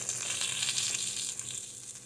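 A pot of rice and water bubbles at a rolling boil on the stove, giving a steady hissing, crackling simmer close by with no voices.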